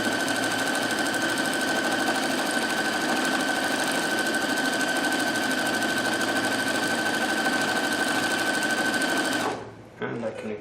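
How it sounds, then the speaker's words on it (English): A Husqvarna Viking Platinum Plus sewing machine stitches a decorative back-and-forth leaf pattern, its needle buzzing in a fast, steady whir close by for about nine seconds before stopping abruptly. "This is a very fancy stitch, which is back and forth motion, doing this fancy curly-Q leaf thing."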